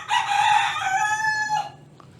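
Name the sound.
rooster crowing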